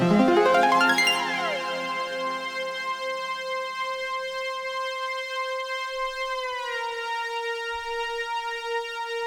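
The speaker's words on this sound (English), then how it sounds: "it's a melodic riser and it sounds like this" Melodic synth riser transition: a bright, harmonic tone that swells from a busy start into a sustained, gliding pitch that shifts near the end. It plays alone and is clear and steady.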